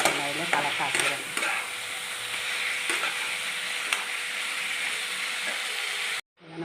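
Chicken sautéing with turmeric and chili powder, a loud, steady sizzle with repeated scraping strokes of a spoon in the pan, cutting off abruptly at the end.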